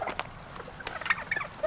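Turkeys gobble faintly and intermittently in a farmyard kept with chickens, short scattered calls rising over a quiet background with no talk.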